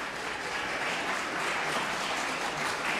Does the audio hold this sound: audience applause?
yes